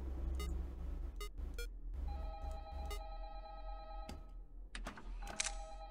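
A telephone rings in the horror video game Five Nights at Candy's 2: a clear electronic ring in several short repeated bursts, joined by sustained beeping tones and faint game ambience.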